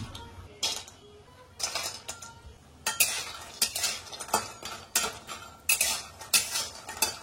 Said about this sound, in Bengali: এই যে বড়িগুলো হালকা তেলে লাল লাল করে ভেজে নিলাম।